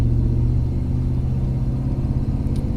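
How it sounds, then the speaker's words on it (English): A deep, rumbling 1991 Dodge Ramcharger engine with full headers, downpipe, high-flow cats and Flowmaster dual exhaust idles steadily close by, a throaty low exhaust burble with no voices. "Sounds great with the full headers, downpipe, high flow cats, Flowmaster dual exhaust."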